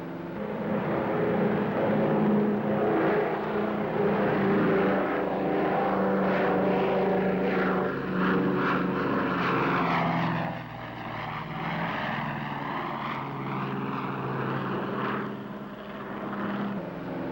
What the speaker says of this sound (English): Big as this Super Connie is, she wants to fly right on off of there.